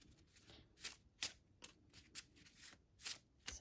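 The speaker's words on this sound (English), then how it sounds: "We're gonna continue to shuffle and see what" A deck of tarot cards is shuffled close up, giving a run of soft riffling snaps at an uneven pace, with no voices.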